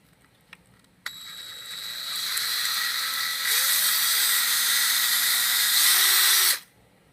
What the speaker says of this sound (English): take our drill and drill a hole